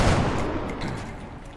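A gunshot fired at a sectoid in the strategy game XCOM: Enemy Within, a loud, dense burst of gunfire that fills the whole moment and trails off slowly, with no talking over it.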